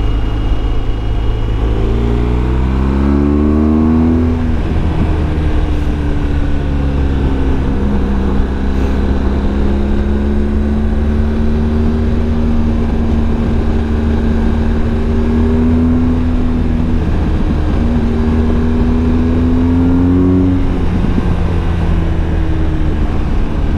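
BMW GS motorcycle ridden along a road, a loud, close, continuous engine drone whose pitch climbs and falls with changes in speed, with wind rush layered over it.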